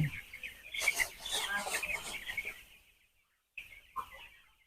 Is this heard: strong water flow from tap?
no